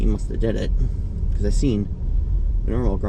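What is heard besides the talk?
No everyday noise stands out behind the speech.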